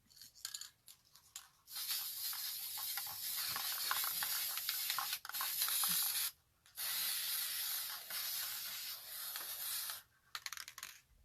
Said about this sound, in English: Okay, so now I sprayed it the first time